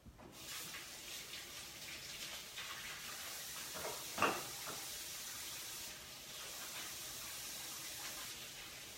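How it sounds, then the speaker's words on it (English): Kitchen tap water runs steadily into a sink while hands are rinsed, a continuous soft hiss with one brief splash partway through and no talking. "I need to rinse my hands."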